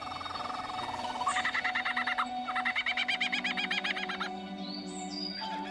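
A male lyrebird imitates a camera shutter, giving rapid repeated mechanical clicking and whirring bursts, loud and close, in short runs interrupted by brief pauses.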